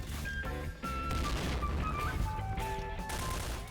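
Rapid bursts of gunfire in the shooter game Point Blank, loud and sustained across the clip with overlapping shots and a brief gap early on.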